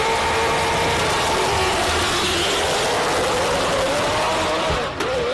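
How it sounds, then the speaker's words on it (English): A heavily modified Subaru hill climb race car at a King of the Hill event roars at extreme volume, its engine note rising steadily and wailing like an Indy car throughout, with a sharp bang or pop near the end. "that is insanely loud, that car"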